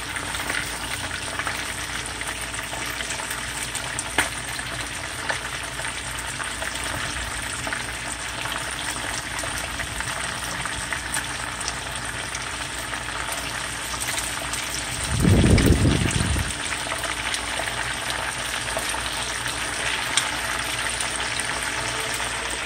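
Jamaican fish frying in a pan of oil, a steady crackling sizzle that runs the whole way through, with a brief louder burst of bubbling partway in and no talking.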